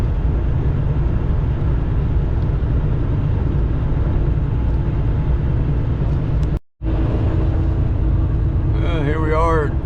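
A truck cruising along a Wisconsin highway toward Fond du Lac, with a steady, loud engine and road roar that drops out briefly partway through and carries a faint voice near the end.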